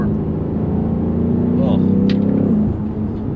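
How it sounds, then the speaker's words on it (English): A 2022 BMW M5 CS sedan engine hums steadily, with a brief rising turbo spool and a short airy blow-off hiss near the middle, heard up close from inside. "You get the little turbo spool and the little blow-off valve noise."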